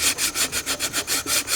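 Quick back-and-forth sanding strokes rasp across a routed wooden art frame piece, about eight brisk, even passes close up and alone.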